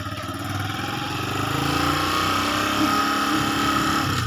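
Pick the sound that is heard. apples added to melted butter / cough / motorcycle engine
motorcycle engine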